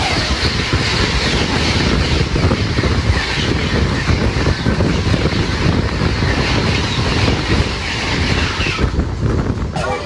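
The Ranikhet Express sleeper train rolls out with a loud, steady rumble and rattling wheel clatter that continues unbroken and close throughout.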